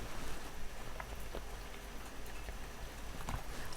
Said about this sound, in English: Raining here now, being blasted with wafts of petrichor